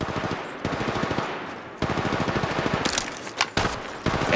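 Rapid automatic gunfire in the mobile shooter Apex Legends Mobile, sustained bursts of close, loud shots broken by brief pauses, with sharper single cracks near the end.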